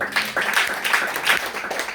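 A church congregation in Kenya applauding for Jesus, a short burst of scattered hand claps mixed with voices and some cheering.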